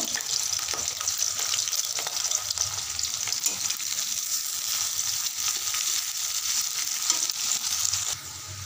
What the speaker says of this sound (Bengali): পেঁয়াজটাকে হালকা লাল করে ভেজে নেব